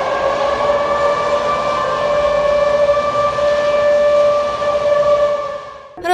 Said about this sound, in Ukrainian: Жителі масово публікували відповідні відео зі звуками тривоги, зняті зі своїх домівок